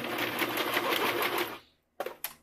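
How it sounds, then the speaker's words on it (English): A sewing machine top stitches a folded bra strap, a steady close motor whir with quick needle pulses that stops abruptly, followed by a couple of short mechanical clicks. "we're just going to fold it along that natural fold and top stitch it closed"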